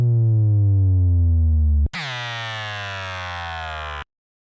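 A sub drop effect from a midtempo sample pack: a loud, buzzy synth tone with stacked harmonics glides steadily downward, breaks off with a sharp click, then restarts higher and keeps falling before stopping cleanly.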